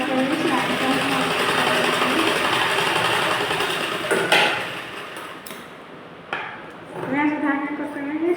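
A sewing machine stitches a blouse in steady runs while pins are pulled out along the seam, its mechanical whir sitting close under a person talking, with brief clicks and pauses near the end.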